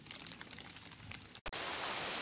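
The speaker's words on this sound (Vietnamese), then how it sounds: "Trời giờ mưa lớn quá trời" Heavy rain pours steadily in rural Đồng Tháp during a snake-trapping trip, a dense close hiss that breaks off for a moment and then returns even stronger.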